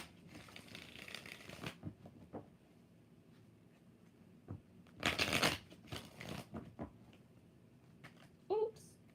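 Tarot cards being shuffled in a few quick papery bursts, a long riffle at the start and a loud one midway, with softer handling noises between and a short sharp sound near the end.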